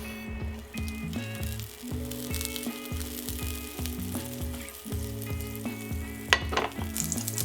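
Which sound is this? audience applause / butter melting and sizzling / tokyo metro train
butter melting and sizzling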